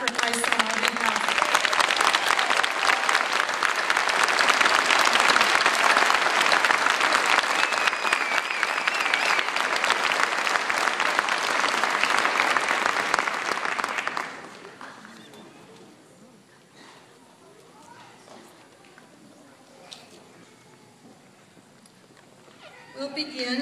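Graduates and guests at a university commencement ceremony give staff and faculty a loud, sustained round of applause that stops abruptly, leaving quiet room noise and scattered murmurs.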